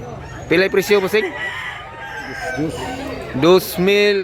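White-leg bullstag gamecock at a Cebu poultry market, crowing in short bursts near the start and again near the end, close and loud, with people talking between the crows.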